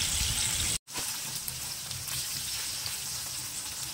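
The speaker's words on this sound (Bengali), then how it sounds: "তো পনিরগুলোকে আমি খুব হালকা করে ভেজে নেব, ডিপ ফ্রাই করবো না।" Paneer cubes fry lightly in oil in a pan for a vegetarian paneer biryani, giving a steady close hiss and sizzle that cuts out briefly once before carrying on at an even level.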